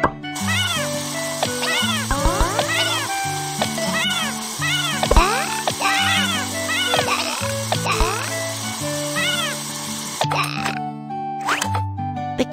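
Cartoon stray kitten meowing in repeated short, rising and falling cries over a busy bed of animated-show music and sound effects, fairly loud throughout.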